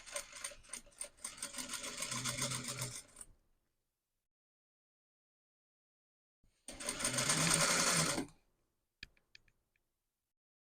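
A sewing machine stitches the neck band piece of a blouse along the back seam line in two clear runs of fast, even stitching, with a silent gap between them and a few faint clicks after.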